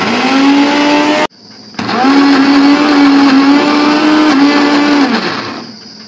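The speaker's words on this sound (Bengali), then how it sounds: "এবার এটা মিক্সিতে পিষে নেব, অল্প অল্প করে পিষবো।" Mixer grinder blending brahmi leaves with garlic, ginger, cumin and green chilli: a loud steady whirring motor whine runs about a second, halts briefly, then restarts and holds for several seconds before spinning down.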